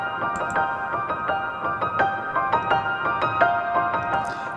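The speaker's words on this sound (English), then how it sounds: "Then we have recorded the piano separately." A piano plays a cover of the Mandalorian theme with added reverb and flashback-style delay, notes struck in a steady rhythm, each ringing out and trailing into echo, played alone and close.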